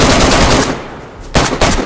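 Bursts of automatic gunfire in the DayZ survival game, loud rapid rattling shots in two clusters with a short lull between, no talking.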